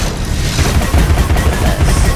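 Dense, loud shooting in the Alice Madness Returns game, a rapid continuous barrage with heavy low thuds and no pauses.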